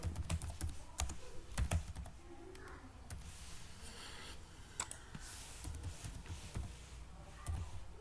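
An address being typed on a computer keyboard, with quick, uneven bursts of close key clicks and occasional louder taps over a quiet room background.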